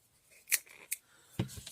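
Small scissors snip through printable paper to trim off a white edge, giving three short, close, crisp cuts spaced unevenly over less than two seconds in a quiet room.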